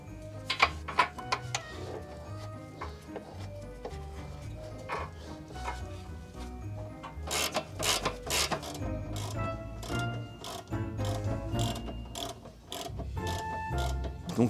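Ratchet clicks in quick bursts while a subframe bolt is tightened on a Renault Mégane 2 1.9 dCi, close up, with metallic rattles and knocks in a garage setting.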